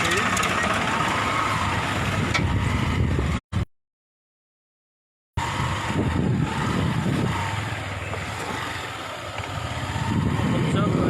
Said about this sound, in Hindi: आवाज भारतीय ट्रैक्टर